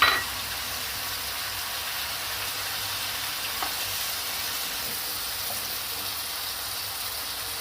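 Onions and tomatoes fry in a pan for a tawa chicken keema, making a steady, loud sizzle throughout with faint clinks and no talking.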